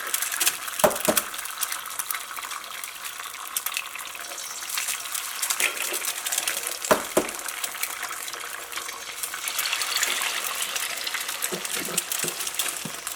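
Three eggs frying in a well-heated pan, a steady soft sizzle and crackle running throughout, with a few sharp clicks and taps of utensils against the pan.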